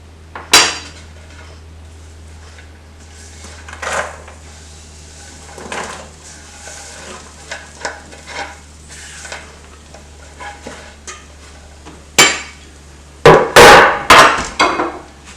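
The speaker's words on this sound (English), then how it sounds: "add the onion and then the cinnamon stick, the cardamom pods and bay leaves" Onion, cinnamon stick, cardamom pods and bay leaves added to a pan for chicken biryani, with scattered clinks of utensil against pan, stirring scrapes and a burst of louder clattering near the end, all without talk.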